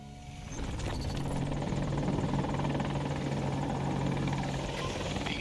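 A helicopter in a multiplayer shooter game, its engine and rotor building up quickly after a quiet start, then holding a steady, fairly loud rhythmic whir close by, with no talking.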